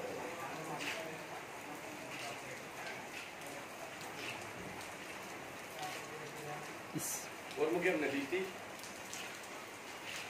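Rain falls on a rural dirt path in a village, a soft continuous patter close by, with a few brief louder rustles and knocks partway through.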